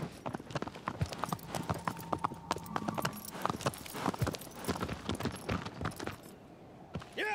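Horse hooves clip-clop at a gallop in Shadow of the Colossus, a steady run of close, sharp hoofbeats under faint ambient game sound.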